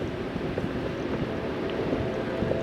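Steady wind roar buffeting the microphone while cycling on a long touring stage with the wind from behind, a continuous broadband rush with gusty low rumble and no talk.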